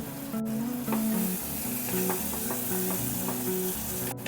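Tomatoes cook with salt in a pan over a medium gas flame, a loud, steady sizzle with stirring throughout and faint tonal hum in the background.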